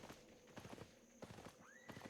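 Horse hooves clip-clopping in the game Albion Online, a quick uneven run of steps at moderate distance with a short whinny-like rising tone near the end, set under a steady background game ambience.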